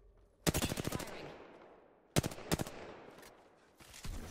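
Apex Legends gunfire in sharp, close automatic bursts: a long rattling volley, then two shorter bursts with clear gaps between them, and a faint rising rumble at the end.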